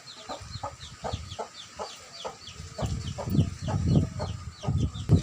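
Hens cluck in repeated short bursts while fed, two of them fighting, growing busier and louder toward the end, with no talking.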